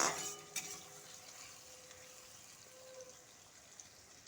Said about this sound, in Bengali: আমি এটাকে একটু ভাজতে দেব কালারটা একটু চেঞ্জ হওয়া পর্যন্ত